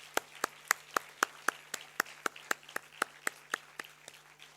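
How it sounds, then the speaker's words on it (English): Sharp, evenly spaced claps ring out one after another at a university convocation ceremony, a steady rhythm of roughly four per second over a faint low hum, fairly close and with no voices. "Let's give a huge round of applause."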